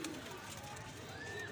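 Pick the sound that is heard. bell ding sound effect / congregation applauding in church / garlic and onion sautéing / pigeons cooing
pigeons cooing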